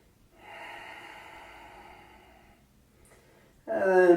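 Slow, deep breathing during a gentle yoga flow: a long, soft exhale through the nose lasting about two seconds, a pause, then a sharper, louder intake of breath, close and alone.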